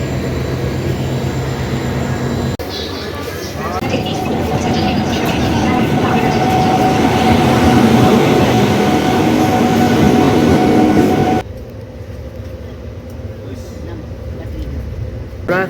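A train rumbles through a busy railway station, its steady mechanical roar building and then dropping off abruptly, with people talking nearby throughout.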